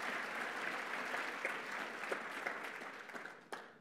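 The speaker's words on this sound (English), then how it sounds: "So I'd like to hear a round of applause for them" Applause for a group of city councilors at a State of the City Address, a steady patter of clapping from an audience that tapers off toward the end, with a few louder claps standing out.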